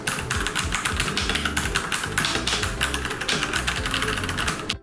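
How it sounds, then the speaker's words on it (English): Rapid, steady typing on an RK Royal Kludge RK98 wireless mechanical keyboard, a dense, close stream of slightly tactile key clacks with no pauses and no talking. "Let's now do a typing test on it and see how does it feel and how does it sound."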